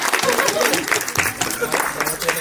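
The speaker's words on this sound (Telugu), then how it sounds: "చప్పట్లు." Applause and clapping from a gathered crowd at a school batch reunion party, a dense steady patter of hands running throughout with voices mixed in.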